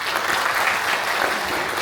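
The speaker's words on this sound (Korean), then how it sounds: "다시 한번 맹성규 인수위원장님의 말씀에 큰 박수 부탁드리겠습니다" Town hall audience in Incheon applauding after a transition committee chair's remarks, a brief burst of dense, steady clapping filling the hall.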